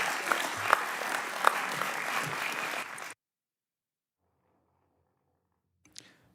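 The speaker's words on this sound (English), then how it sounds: "Let's give Mr. Shaughnessy a big round of applause" Steady applause from a hearing-room audience for Mr. Shaughnessy at a congressional shadow hearing fills about three seconds, then cuts off abruptly into near silence broken by a faint click or two.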